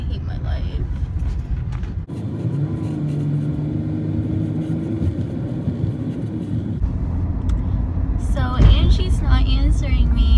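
Low rumbling road noise and passing traffic heard from inside a car, a steady drone that swells toward the end as vehicles go by, with a voice talking over it.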